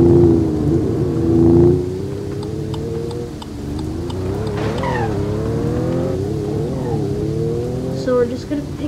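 Car in a Roblox video game driving, a steady engine drone that rises and falls in pitch with revs, loud and close throughout.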